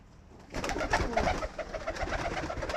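Homing pigeons coo softly in a steady series of low, burbling calls, close by, with faint rustling and background noise and no talking.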